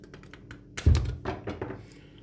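A 10 to 15 cm persimmon stem cutting being cut, a single heavy close thunk preceded and followed by lighter tapping knocks, with no one speaking.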